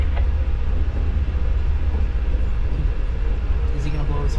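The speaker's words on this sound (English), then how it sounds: "he's running that train, so he's going to be coming right by us, running the outside here." A train on a heritage railroad passes close by, its loud, steady rumble and rolling wheel noise filling the whole stretch without a break.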